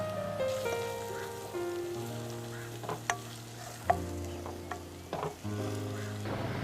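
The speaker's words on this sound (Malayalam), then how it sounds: "ഇതിലോട്ട് ഇഞ്ചി, വെളുത്തുള്ളി, ചെറിയുള്ളി ചതച്ചത് ഇടാം" Chopped onions frying with crushed ginger, garlic and small shallots for a Kerala-style chana dal biryani. The pan gives a steady close sizzle, broken by a few sharp clinks and scrapes of stirring, with no talking.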